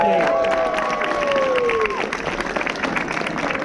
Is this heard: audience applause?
yes